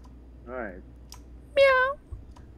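A man imitates a cat with two drawn-out vocal meows, the second louder and longer, and a soft click between them in a quiet room.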